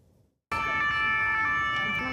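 An emergency vehicle siren wails loudly and steadily in Paris after a brief quiet start, with sustained tonal bands over a rumbling street background.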